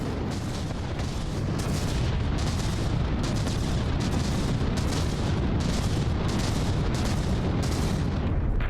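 Naval artillery from the Project Broadsword battleship in From the Depths fires without pause, a rapid, evenly spaced train of heavy booming blasts about twice a second over a continuous rumbling din.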